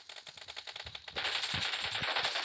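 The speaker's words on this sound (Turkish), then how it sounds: "Akil uzaktan nasıl vuruyor lan o kadar?" Gunfire in the video game PUBG rattles off in rapid bursts, a run of sharp distant-sounding shots followed by a denser, louder stretch of automatic fire.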